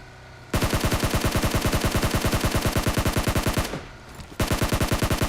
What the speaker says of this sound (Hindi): भैया कार 98 से प्रहार करा था मेरे ऊपर